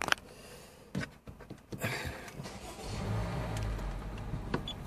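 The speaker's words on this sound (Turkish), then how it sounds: "Aracı bir ileri geri yürüteceğim az bir şey." Honda City car fitted with an audible rear parking sensor, moved slightly forward and back inside a shop; a steady low engine hum with a few clicks and brief rustles, fairly quiet and close, no talking.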